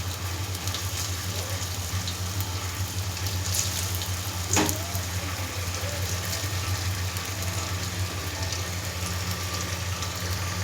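Batter-dipped paneer fingers fry in hot oil, giving a steady, close sizzle and crackle that runs unbroken with a low background hum and a brief clatter partway through.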